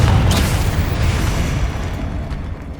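A Confringo blasting curse from the Hogwarts Legacy video game erupts in a loud, booming explosion at close range, its rumbling blast sustained and slowly fading over a few seconds.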